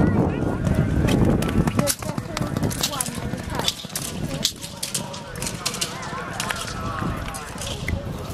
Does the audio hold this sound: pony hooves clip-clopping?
yes